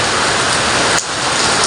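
Heavy rain pours steadily onto a veranda, a dense, loud roar of water with no voices and only a brief dip near the end.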